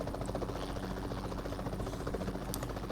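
A helicopter in the mobile battle royale game PUBG Mobile drones steadily with a dense, continuous rotor buzz, loud and unbroken throughout, with no voices over it.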